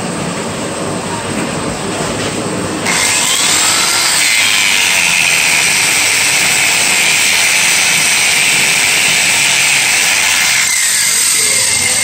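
Angle grinder cutting through cow reinforcing bar at a market, a loud, steady, high-pitched whine and grinding that holds without a break from start to finish.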